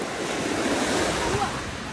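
Ocean waves wash in at a beach with a steady, broad rush of surf and wind noise, moderately close and without clear breaks.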